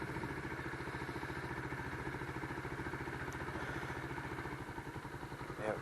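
A Lifan KP Mini 150 motorcycle engine runs just after starting, a steady fast-pulsing idle chatter heard close and continuous, alone without talk.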